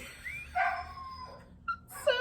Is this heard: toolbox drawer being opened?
no